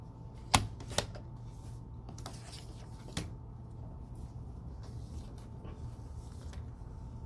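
A paper trimmer works through a strip of craft paper, giving a couple of sharp clacks close together, then a single softer click, over a faint hum.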